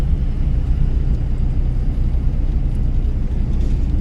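A car engine runs during a driving lesson, a steady, loud low rumble heard from inside the vehicle, holding level throughout with no voices over it.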